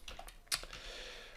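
Several crisp computer keyboard keystrokes while entering a formula in Excel, close and fairly quiet, including one sharper key tap near the middle, with no talking.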